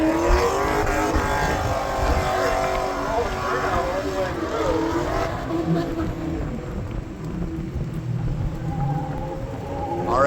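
Drift cars roll past on a parade lap at Suika Circuit, their engines droning and revving loudly in a continuous wash of overlapping exhaust noise, with people talking nearby.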